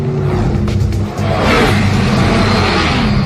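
A car engine revs up loudly and close, a steady roaring drone that briefly dips and then surges higher and holds, with no talking.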